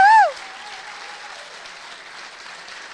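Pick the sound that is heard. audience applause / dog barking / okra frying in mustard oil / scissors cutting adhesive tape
audience applause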